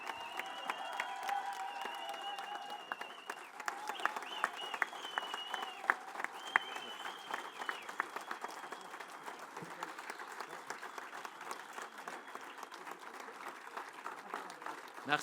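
At a political rally in Amiens, a large crowd claps and cheers to welcome Manuel Bompard, a dense, sustained ovation with scattered shouts and whistles rising over it, lasting the whole stretch.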